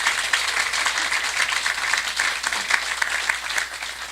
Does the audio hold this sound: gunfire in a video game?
no